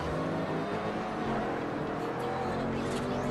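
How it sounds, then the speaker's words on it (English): Car engine in the racing video game Forza Horizon, a loud, continuous roaring drone with steady revving and wheel spin, unbroken from start to end. "this car sounds beastin'"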